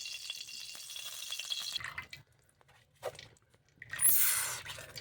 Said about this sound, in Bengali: দেখুন পুরো তেলটা আমি চিপে ঢেলে দিলাম